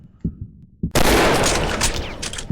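A sniper rifle shot from the mobile hunting game Hunting Sniper booms loudly and abruptly, then rumbles and decays with a long rolling echo, preceded by a few soft low thumps.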